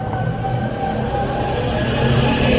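A loud bus rumbles past close by outdoors, a steady, dense roar of engine and road noise that fills the whole stretch without letting up; no speech.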